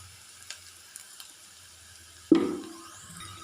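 Brinjal with a pinch of turmeric and a spoon of chili powder hits a hot pan on low flame, a quiet kitchen giving way to a sudden loud sizzle that fades gradually, with faint stirring.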